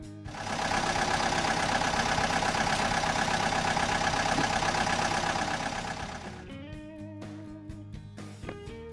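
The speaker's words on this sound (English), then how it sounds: "Excavator." A construction excavator's diesel engine runs steadily at a loud, constant idle-like drone, then tapers off near the end as clanking, knocking sounds take over.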